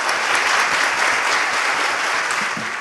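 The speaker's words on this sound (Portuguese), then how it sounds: "E aquele aplauso para Marcelo Cerrado." Steady, full applause from an audience honoring an awardee at an awards ceremony, a dense continuous roar of clapping heard alone and close.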